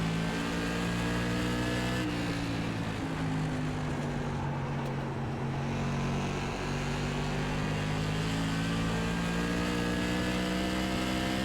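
Modified race cars in the iRacing game roar through a green-flag start at USA, a loud, continuous engine drone with rising and shifting revs across the whole stretch.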